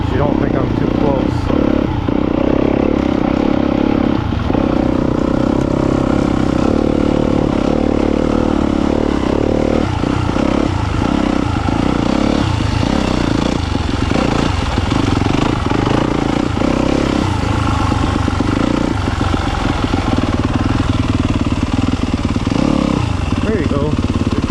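A dirt bike rides through woods with the throttle kept gentle, its engine buzzing and clattering steadily close by for the whole stretch, rising and falling slightly, while a rider's voice talks over it.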